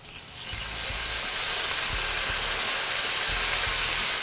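Sauce deglazing in a hot pan with crispy pork, a steady loud sizzle and hiss that builds over the first second and then holds, with faint low knocks from the pan underneath.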